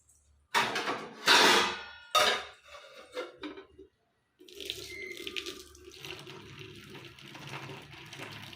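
Water splashes and pours in several bursts, then a steadier trickle drains away with light clattering from a vessel nearby.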